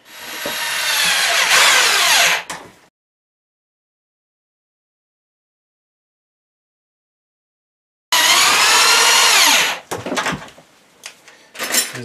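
A power drill drives small self-tapping sheet metal screws into a solar panel roof mount, two loud whirring bursts separated by a long silence, the second ending in a few sharp clicks and knocks.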